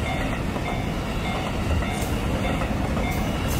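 A train rumbles past close by at a level crossing in front of Ushida Station in Tokyo, with a continuous rolling roar and faint clickety-clack of wheels.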